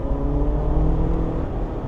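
A 2025 Jeep Wrangler Willys 41 Edition 4xe plug-in hybrid accelerating hard with a little wheel spin, its engine droning loud and steady from inside the cabin with a continuous low rumble and road noise, no talking.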